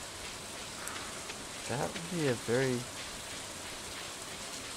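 Steady rain hiss from the video game Stardew Valley, a soft broadband patter running throughout, with a brief spoken word and a short burst of speech in the middle.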